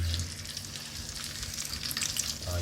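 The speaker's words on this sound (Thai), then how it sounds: "เราก็ทอดปลาทูต่อเลยครับ" Mackerel frying in a pan of oil for a meal with shrimp-paste chili dip, giving a steady, close, crackling sizzle that holds evenly throughout with no talking.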